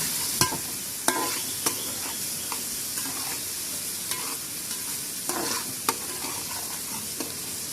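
Tomatoes softening in hot oil for Konkani-style tempered rice, sizzling steadily while a spoon scrapes and stirs the pan in sharp, irregular clacks, close and alone with no talk.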